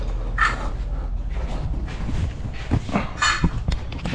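Wooden kitchen cabinet drawers being pulled open and pushed shut in a workshop, giving a series of creaking, sliding knocks with a few sharper thuds, fairly close, and no talking.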